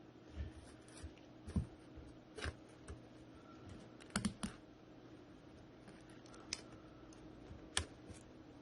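Saran wrap being pulled and pressed over hot-process soap batter, producing quiet, scattered crinkles and sharp plastic clicks in irregular bursts close by.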